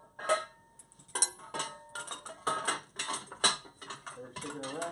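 Metal nuts being threaded onto the lower bolts of a fire hydrant with a wrench, giving a close series of irregular clanks, clicks and ratcheting scrapes in short bursts, with quiet gaps between.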